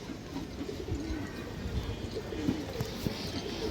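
Pigeons kept for racing coo in low, repeated murmurs close by, with faint rustling and scattered soft knocks, quiet overall.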